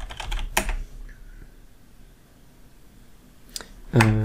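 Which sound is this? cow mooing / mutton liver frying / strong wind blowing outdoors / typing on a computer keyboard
typing on a computer keyboard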